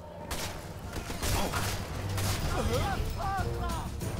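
Bursts of rapid gunfire crackle throughout in Sniper Elite 4 gameplay, with sharp electronic effects and a voice talking over the shooting.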